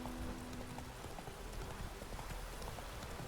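Horse hooves clip-clop at a steady trotting pace in The Witcher 3 video game, a rhythmic run of soft thuds under a dense wash of game ambience and background noise.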